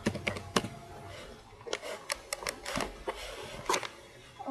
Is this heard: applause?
no